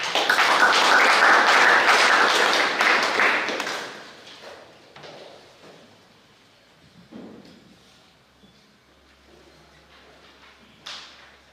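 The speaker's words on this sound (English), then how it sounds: "Let us welcome him with a big round of applause." Brief applause from a gathering of novice brothers at a religious talk, steady clapping for about four seconds that fades out, followed by quiet room sounds, light thumps and footsteps.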